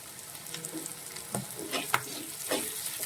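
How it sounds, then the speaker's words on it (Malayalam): Tomatoes with salt and chilli powder are stirred in a frying pan: a soft background sizzle broken by several distinct scraping strokes of the spoon against the pan. "നന്നായിട്ട് ഇളക്കി യോജിപ്പിക്കുക"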